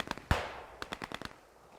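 Machine gun suppressing fire in a video game battle: sharp, rapid bursts of automatic gunfire with one heavier crack, irregular clusters of shots echoing at moderate distance.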